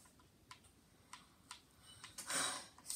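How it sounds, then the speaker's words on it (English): Code being typed on a computer keyboard: a handful of separate, fairly faint key clicks spaced irregularly, ending in a short louder burst of presses. "you're going to want to type in this code that I'm typing in now"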